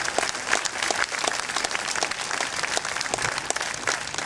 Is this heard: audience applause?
yes